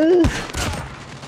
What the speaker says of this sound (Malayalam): Shot gun.